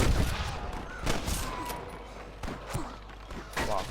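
Gunfire rings out in a shootout in Red Dead Redemption, a rapid series of sharp cracks and bursts spread unevenly across several seconds, some close and loud, others fainter.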